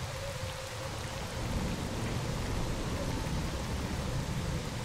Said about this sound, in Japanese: めちゃくちゃ大雨だけど